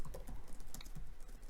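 Fast, steady clicking of keys on a computer keyboard during typing at a desk. The keystrokes are close and clear, arrive in a dense unbroken run, and no one speaks.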